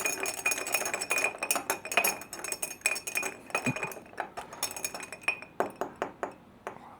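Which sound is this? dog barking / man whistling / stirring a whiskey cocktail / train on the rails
stirring a whiskey cocktail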